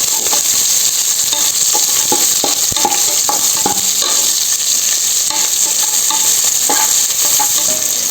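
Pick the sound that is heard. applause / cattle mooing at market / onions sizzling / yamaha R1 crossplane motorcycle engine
onions sizzling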